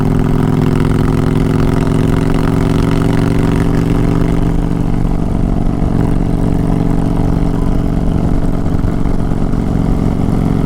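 A 2022 Honda Fury motorcycle engine drones steadily at around 60 miles an hour, loud and close with constant wind rush layered over the low rumble, no talking.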